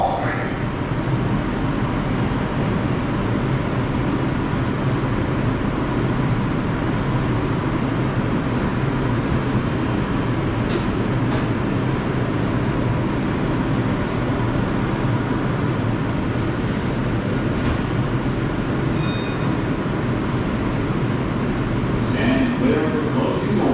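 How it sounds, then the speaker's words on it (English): A Bowling Green–bound R142 subway car on the 5 line rumbles steadily from the inside, with a constant loud broadband roar of wheels and motors throughout and brief faint squeals and tones near the end. "This is a crossbound 5 train."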